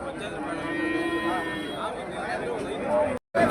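A Jersey or HF cattle calf lets out one drawn-out moo close by while people talk in the background of a weekly cattle market in Honnali, Davangere.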